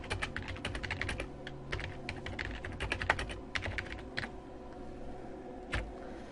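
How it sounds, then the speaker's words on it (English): Rapid keystrokes on a computer keyboard as a photo caption is typed, a close, irregular clatter of bursts that thins out into a few isolated taps. "now I can type my caption"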